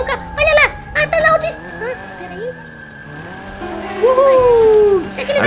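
Car driving in GTA 5 with a few tire squeals rising above engine drone, strongest in a long screech near the end, while a voice talks over parts of it.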